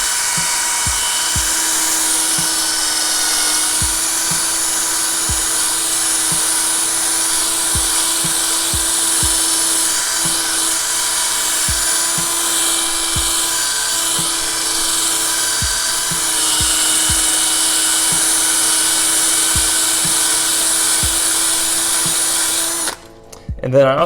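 A drill spins a polishing rag inside a rifle barrel, producing a loud continuous whirring drone with repeated low knocks and rattles, close up, ending abruptly near the end.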